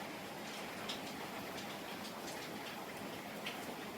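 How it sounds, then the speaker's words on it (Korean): A summer rain shower falls steadily outside, a dense, even hiss of rain with scattered faint drips and taps, continuous and fairly quiet with no voices. "소나기 때문에 좀 시끄럽긴 한데 그래도 시원해서 좋습니다"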